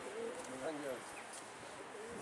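A domestic roller pigeon coos softly at a loft, a few low burbling calls at moderate distance amid voices talking and faint background bird sounds.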